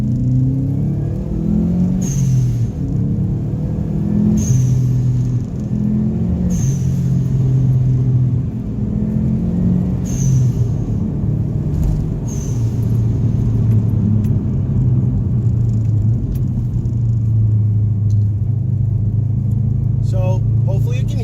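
A 2004 Subaru Impreza WRX STi engine runs steadily at low rumble throughout, with faint metallic clicks and jangles near the start.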